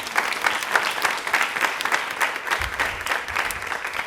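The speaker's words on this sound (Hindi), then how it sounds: "तालियां प्लीज एक बार जोरदार हो जाए" A studio audience at a Women's Day quiz program in Rajasthan claps steadily, a dense patter of applause from a nearby crowd, lasting several seconds without a break.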